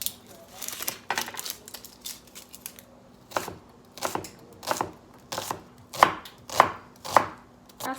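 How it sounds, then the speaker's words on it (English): A knife chops onions on a cutting board in repeated crisp thuds, irregular at first, then a steadier rhythm of single loud strokes, close up with no speech. "you need about a half a cup of chopped onion"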